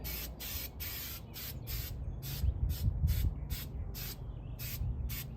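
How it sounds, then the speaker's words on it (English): Short bursts of black spray paint and black undercoating from aerosol cans, applied inside the body of an old Nova during a deep clean; a run of evenly spaced hisses close to the microphone, each about half a second long. "Just a little bit of black spray paint and a little bit of black undercoating in there."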